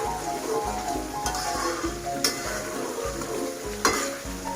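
A spatula stirs tuna balado with salt and MSG in a frying pan, giving rhythmic scraping strokes roughly every half second over a steady sizzle, with a few sharper clinks against the pan and no voices.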